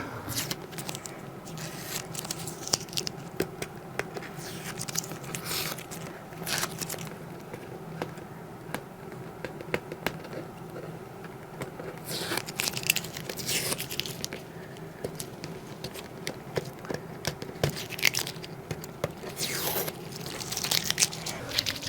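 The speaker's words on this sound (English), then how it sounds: "Okay, pull off all the tape." Adhesive tape peeled off a motorcycle helmet during an LED light kit install crackles and rips in repeated short bursts, close and fairly quiet over a low background hum.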